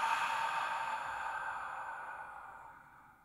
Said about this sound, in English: The fourfold breath or box breathing, in through the nose and out through the mouth.